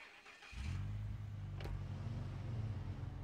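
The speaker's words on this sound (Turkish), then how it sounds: "arabayı çalıştırdık." A heavy truck engine in the SnowRunner off-road game, set in Black River, Michigan, cranks to life after a brief quiet moment, then settles into a steady, loud low rumble that continues to the end.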